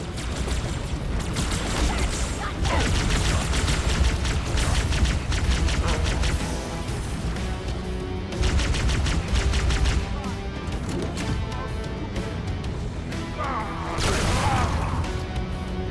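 Rapid gunfire bursts and impacts in the video game Halo 2, loud repeated volleys and crashes layered over a continuous game soundtrack.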